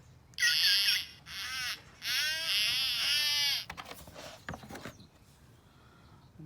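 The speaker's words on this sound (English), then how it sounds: "This is the sound an orca makes." Bursts of high, squealing orca whistles with wavering pitch, three separate calls, followed by a scatter of sharp clicks fading into quiet.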